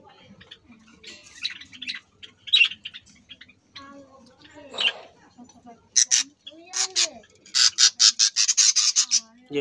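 Budgerigar chicks a few days old in a breeding colony, thin high chirps and squeaky calls, scattered at first and then a fast rapid run of cheeps close by, with someone talking over parts of it.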